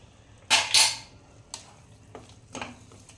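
Utensil scraping and clinking in a pan while methi matar malai is stir-fried with salt and garam masala, two loud close scrapes followed by several softer knocks, with no voices.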